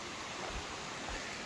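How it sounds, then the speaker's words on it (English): Little Wilson Falls, a waterfall in Maine's 100-mile wilderness, gives a steady, faint broadband rush of falling water with no voices. "Little Wilson Falls in the 100-mile wilderness. One of the most beautiful falls you're going to see on the whole trip."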